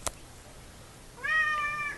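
A house cat gives a single clear, drawn-out meow near the microphone after a brief tap and quiet room tone, with no talking.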